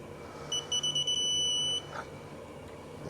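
A diagnostic tool on a Toyota turbo diesel engine gives a rapid series of high electronic beeps, a few short pulses then a sustained tone, close and clear over a quiet background.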